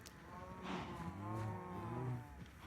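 A cow moos repeatedly in a video game, long drawn-out lowing calls over a steady background hum, fairly loud and close with no talking.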